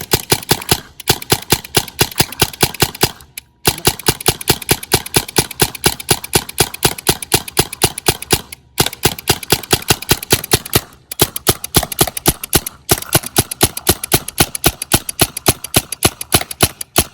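An airsoft rifle fed by an MCS Gen2 box magazine fires in long rapid-fire bursts, a dense mechanical clatter of shots close by, split by a few short pauses.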